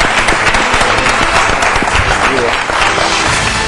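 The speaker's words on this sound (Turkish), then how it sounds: "Kendisini alkışlıyoruz o zaman." Audience applause after an interview segment at a Turkish hair-transplant talk event, dense steady clapping throughout with possible background voices mixed in.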